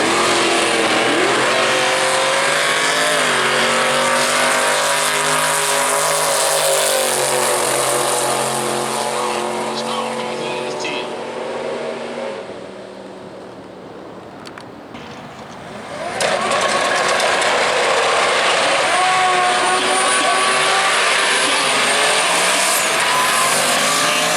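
Drag race car making a solo pass in the left lane at Worldwide Technology Raceway, a loud roaring engine that dips in the middle, then surges back at full volume with no voices.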